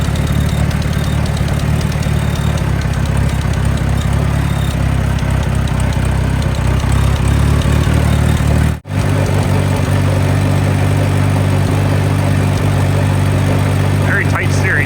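A 1950 Allis Chalmers B tractor engine runs steadily close by, a continuous low, rough drone that briefly cuts out for an instant before resuming, with someone talking over it.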